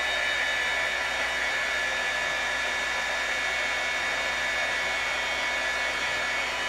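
A heat tool blows steadily while drying watercolor paint on a card, a loud, even whooshing hum held constant throughout with no pauses and no voices.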